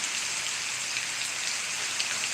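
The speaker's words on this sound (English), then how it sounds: "You don't like the rain." Steady rain falling during a rainstorm, a dense even hiss of drops on surfaces filling the whole stretch with no voices.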